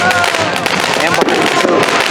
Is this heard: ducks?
no